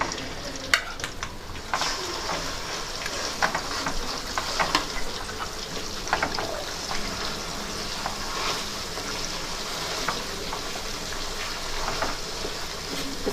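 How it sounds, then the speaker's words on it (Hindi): A spoon stirs tamarind and spice paste with turmeric in a pan for homemade Hyderabadi vegetable pickle, giving a steady soft sizzle with scattered scraping clicks, close and continuous, with no voices. "थोड़ी देर मिक्स करके एक 3-4 मिनट्स तक हम ऐसे ही मिक्स कर लेंगे इसको"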